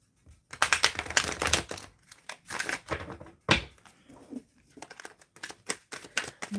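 Tarot cards are shuffled close by in repeated riffling bursts with short pauses between them, crisp papery flutters and a sharp slap or two as the deck is squared.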